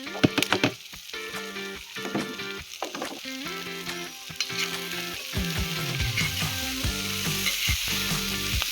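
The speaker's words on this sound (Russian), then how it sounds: "Даем луку чуть поджариться и засыпаем сразу же перец и морковку." Onion, pepper and carrot fry in a kazan over a campfire after meat has been browned, giving a loud, steady sizzle broken by clattering stirs and scrapes of a utensil against the pot.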